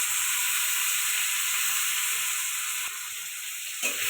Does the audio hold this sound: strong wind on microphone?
no